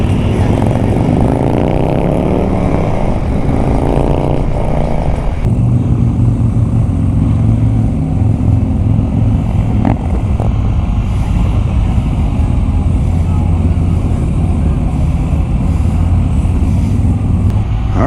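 A powerful motorcycle ridden at speed with another bike just ahead, the engine droning loud and continuous through the whole stretch, rising and shifting in pitch with gear changes, wind rush mixed in.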